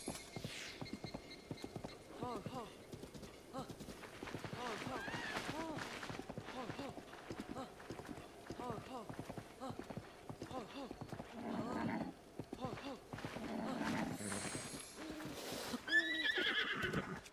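A horse in The Legend of Zelda: Breath of the Wild trots with steady rhythmic hoof clops and gives several neighs, faint and mixed with game music and occasional talk.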